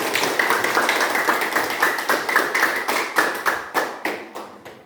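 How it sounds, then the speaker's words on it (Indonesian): A small group in a classroom or training session claps for a presenting group, with rhythmic individual claps that slow and thin out toward the end. "kita tepuk tangan untuk kelompok 3"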